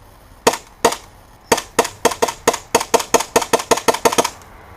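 A KWA KZ75 airsoft pistol being test fired: two spaced shots, then a rapid run of about a dozen sharp, crisp snapping pops at a steady rhythm, close and loud with no talking.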